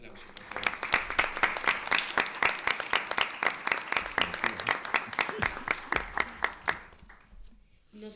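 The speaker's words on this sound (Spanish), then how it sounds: "Un aplauso, por favor." Applause at an international academic colloquium: a room of attendees claps in a brisk, even rhythm of distinct hand claps, fairly close, fading out near the end.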